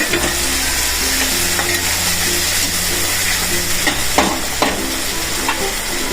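Chopped tomatoes tipped into a pan of sautéed onions for spiced leftover bread, a steady close hiss of frying and sizzling with stirring scrapes throughout and no talk.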